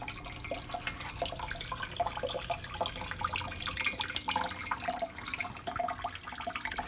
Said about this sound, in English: be circulated up through the pump and to the top of a waterfall